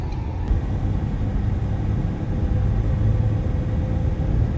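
A car drives along a road in stop-and-go traffic and pulls over, a steady close engine rumble with road noise heard from inside the vehicle.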